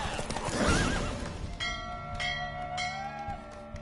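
Roach the horse in The Witcher game gives a loud, close neigh, followed by ringing bell-like tones and clopping in the background.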